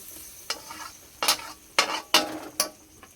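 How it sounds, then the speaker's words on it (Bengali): Curry being stirred in a frying pan, with five or six sharp scraping sweeps at irregular intervals over a soft, steady sizzle, close and fairly quiet, with no talking. "ভালোভাবে নেড়ে নিলাম।"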